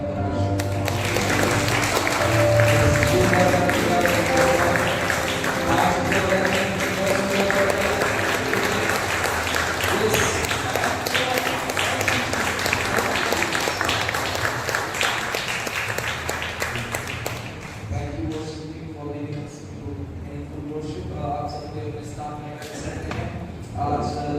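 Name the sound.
congregation applauding loudly in church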